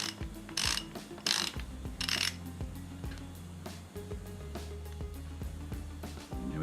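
A socket wrench turns the aluminum top cap off a Fox 36 suspension fork, giving close, repeated ratchet-pawl clicks in short bursts with brief pauses between strokes, and no talking.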